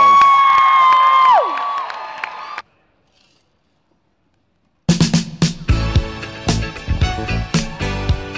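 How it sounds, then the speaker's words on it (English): A crowd at a charity lip sync challenge night bursts into cheers and clapping after a sliding musical passage and a short silence, with whoops and sharp claps repeating until the end. "Give them a big round of applause."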